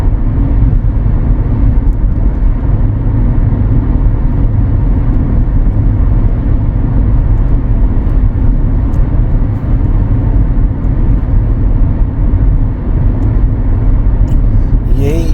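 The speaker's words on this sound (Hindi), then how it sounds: "गाड़ी इस वक्त 100 की स्पीड में जा रही है।" A car cruises at 100 km/h along a multi-lane highway between Sharjah and Abu Dhabi, giving a steady, dense road and engine rumble from inside the cabin that stays constant throughout, with no obvious talk.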